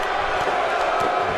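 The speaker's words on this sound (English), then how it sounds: "Crowd again." Wrestling event crowd cheering in an arena; a dense, steady roar of many voices fills the short moment at a fairly loud level.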